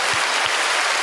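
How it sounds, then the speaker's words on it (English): Audience clapping at a comedy podcast taping, a steady, dense wash of applause filling the whole short moment with no break. "clap if you think Kevin's a loser"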